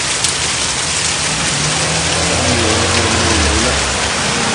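Heavy rain pours steadily through a storm in the United States, a dense, continuous hiss filling the space, with a low rumble of a passing vehicle or engine underneath and no one speaking.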